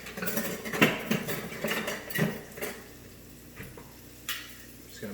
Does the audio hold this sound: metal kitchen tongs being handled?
yes